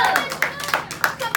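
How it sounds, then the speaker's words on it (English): Classroom of students giving a short burst of hand clapping, a handful of quick uneven claps close by with light voices mixed in. "Give me a hand clap."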